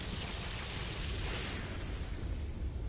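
A video game explosion from Danganronpa 2 roars as a dense, continuous rumble with a broad hiss on top, loud and sustained throughout with no voices.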